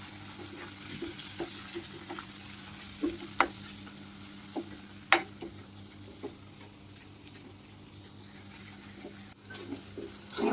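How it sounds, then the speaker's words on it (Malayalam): Onion and garlic fry in a pan as grated coconut goes in, giving a steady soft sizzle broken by occasional scrapes and taps of a stirring spoon, close and unaccompanied by talk. "ഈ ഉള്ളിയും വെളുത്തുള്ളിയും ഒക്കെ ഏകദേശം ഒന്ന് മൂത്ത് വരുമ്പോഴത്തേക്ക് കുറച്ച് തേങ്ങാപ്പീര ഇട്ട് കൊടുക്കുക"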